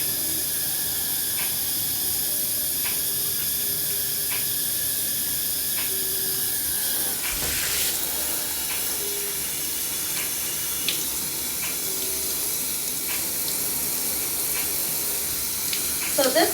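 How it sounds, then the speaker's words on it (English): Warm then cold water running from a tap while hair is rinsed, heard as a continuous broad hiss and splash throughout, steady and close, with faint tones in the background. "I initially rinse my hair with warm water, and then I flash cool it with cold water."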